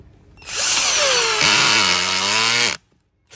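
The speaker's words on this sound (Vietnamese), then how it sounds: "lên 18 thì nó bắn được con vít vào luôn cái gỗ" A cordless 4-cell drill set to clutch level 18 drives a screw into wood: one loud, close motor whine rising in pitch, then a strained lower grinding as the screw bites, ending abruptly.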